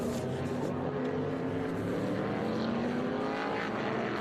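IMSA ALMS GT and GT LM production race cars from 1995 to 2012, Porsches and V8-powered machines among them, roar around Laguna Seca in a dense, continuous engine drone that holds steady and loud throughout.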